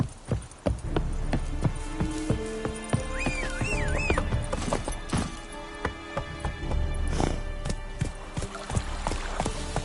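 Roach, a horse in the video game Witcher 3, gallops with a steady hoof clip-clop over a busy game soundscape with music tones and a brief whinny, loud and close throughout.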